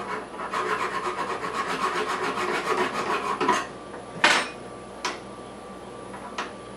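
Guitar frets being filed during fret leveling: a quick series of rhythmic, close rasping strokes, followed by a few separate single scrapes with pauses between them, no voices.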